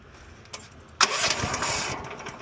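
The gas engine on a fence-cleaning machine for a PVC fence catches after a short pull and keeps running at a steady, close rumble.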